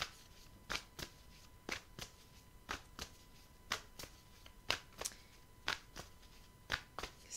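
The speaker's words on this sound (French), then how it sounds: "je vais prendre une carte du Béline" Oracle cards being shuffled and drawn by hand at close range, a series of quick, crisp riffling bursts repeating roughly every second in an otherwise quiet room.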